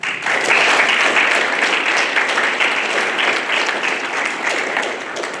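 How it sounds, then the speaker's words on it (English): Sustained audience applause at a justice symposium, loud and steady throughout without break, many hands clapping in a dense wash. "Round of applause."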